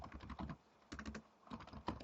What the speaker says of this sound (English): if I keep typing, for example, instead of going down to the next page, it should come to the other side of the column